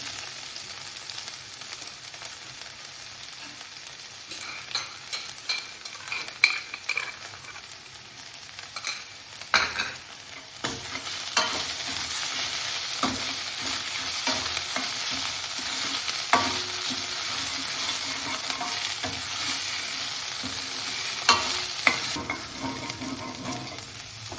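Garlic and green chili paste sizzles in a hot pan for a mushroom and pea curry, steady frying hiss broken by frequent scraping stirs of a spoon, close and continuous with no talking.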